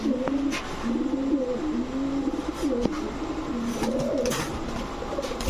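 A pair of large dobash pigeons, male and female, coo repeatedly in soft, rolling phrases close by, with steady background noise and no talk.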